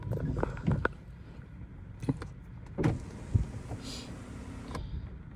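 A car's electric roof whirs open with a steady, fairly quiet motor hum lasting about a second, amid scattered handling knocks and interior rustle.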